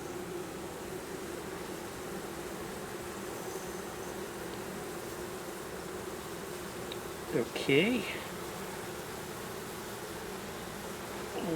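Honey bees from an opened Layens hive make a steady low drone throughout, with a louder buzz as one flies close near the end and a brief spoken word.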